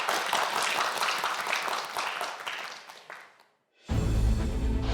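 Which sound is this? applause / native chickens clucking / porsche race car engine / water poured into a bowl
applause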